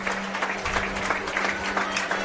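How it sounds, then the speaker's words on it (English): A stadium crowd at a CommBank Pararoos versus USA international friendly football match applauds, a dense, sustained wash of clapping at steady volume from a distance, with faint voices mixed in. "And all of an Australian persuasion can stand and applaud."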